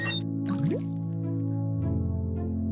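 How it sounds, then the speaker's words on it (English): Water pouring from a pump into a bucket in the adventure game Day of the Tentacle: a short cartoonish liquid effect with a rising glug and dripping, close and clear over a steady background music bed. "I just got a bucket full of water"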